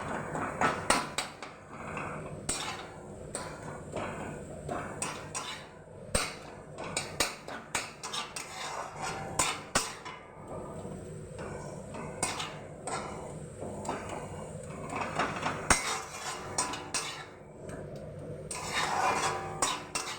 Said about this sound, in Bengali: বেগুনটা দিয়ে আমি একটু ঘেটে নেব।